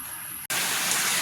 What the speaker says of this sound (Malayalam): ഇവിടെ പെരും മഴയായിപ്പോയി ഭയങ്കര മഴ